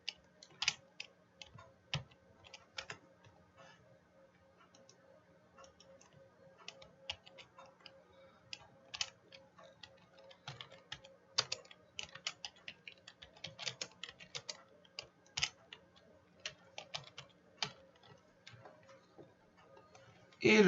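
Code typed on a computer keyboard in a Python program, a sparse, irregular run of quiet clicking keystrokes scattered in bursts over a soft background hum, close and dry with no talking.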